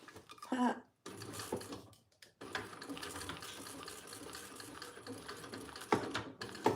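A sewing machine stitching a trifold wallet runs in a short burst, stops, then whirs steadily for several seconds at moderate, close volume, with faint talk in the background.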